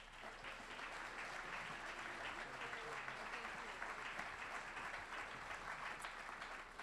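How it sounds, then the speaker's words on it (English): A crowd applauds to welcome speaker Daniel Blank onstage, a continuous, even roar of clapping that stays fairly distant and quiet throughout, with no pause or break. "Please give him a big applause"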